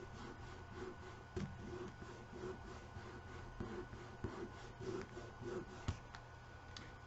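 A wooden piece being rubbed down by hand in steady, repeated strokes, a soft close scraping rhythm with a few sharper knocks, no talk.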